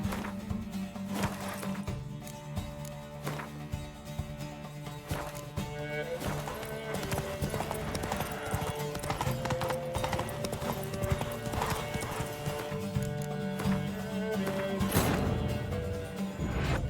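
Hooves of Roach, the horse in The Witcher 3, clop in a steady rhythm over a bed of music, with a whinny heard partway through and the hoofbeats continuing to the end.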